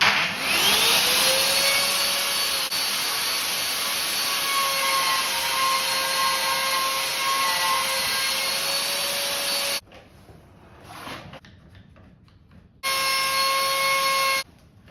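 A power tool whines loudly while cutting a rebate into a kitchen worktop for a joining bolt, running steadily for about ten seconds, pausing, then starting again briefly; no talking.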